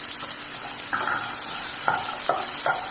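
Vermicelli upma with beans and carrot is stirred in a hot pan, soft steady sizzling punctuated by several distinct scraping strokes of a spoon against the pan.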